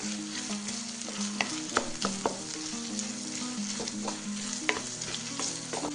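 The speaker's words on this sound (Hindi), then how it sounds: "और प्याज को हम अच्छे से फ्राई करेंगे।" Onions fry in hot oil for a Kashmiri fish curry, a steady dense sizzle with intermittent clinks and scrapes of stirring, close and continuous with no talking.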